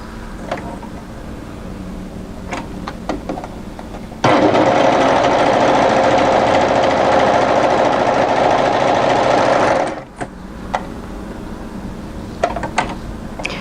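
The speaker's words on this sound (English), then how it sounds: "take your front patch pocket piece and overlock round all sides of this" An overlocker serges around all sides of a front patch pocket piece for a winter tee dress, a loud, dense whirring buzz that holds for about six seconds, stops abruptly, and gives way to quieter handling sounds.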